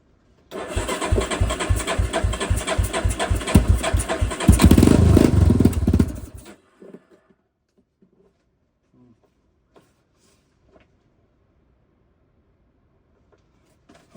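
A 1996 Yamaha Warrior 350 ATV engine cranks on the starter with rapid rhythmic chugging, briefly catches into a rougher roar, then dies, leaving near silence with faint clicks.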